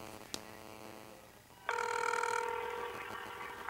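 A K1 watch phone on hands-free places a call: a click and faint tone, then a loud, steady electronic ringing tone swells in and holds.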